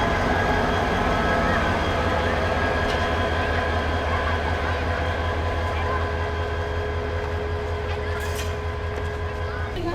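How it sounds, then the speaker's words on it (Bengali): The Kishoreganj Express intercity train stands at Bhairab Bazar junction in Bangladesh, giving off a steady, loud, low rumble with humming tones throughout. "এই যে আমাদের কিশোরগঞ্জ এক্সপ্রেস দাঁড়ায় আছে।"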